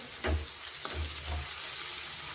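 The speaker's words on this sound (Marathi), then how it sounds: "कांदा फ्राय होत आलेला आहे" Onion frying in a pan for a homestyle chicken rassa, a soft steady sizzle running throughout with a few brief stirring scrapes near the start.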